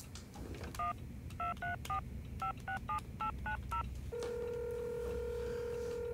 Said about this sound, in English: I'm trying to make a phone call.